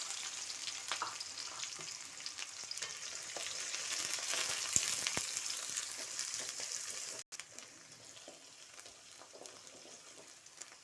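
Onions frying steadily in a pan, a dense even sizzle with occasional pops and faint stirring, close and fairly loud, briefly cutting out before resuming slightly quieter.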